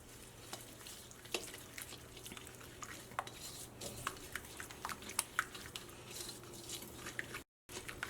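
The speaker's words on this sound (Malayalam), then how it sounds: "ഇനി നമുക്ക് ഇതെല്ലാം കൂടിയിട്ടൊന്ന് മിക്സ് ചെയ്യാം" Batter for banana fritters being mixed in a bowl, with scattered clinks and scrapes of a utensil against the bowl and soft stirring, fairly quiet and irregular.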